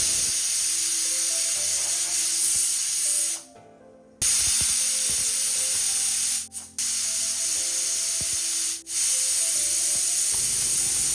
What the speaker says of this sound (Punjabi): ਹੁਣ ਇੱਥੇ ਚਾਰ ਵਿਸਲਾਂ ਲੱਗੀਆਂ ਸੀਗੀਆਂ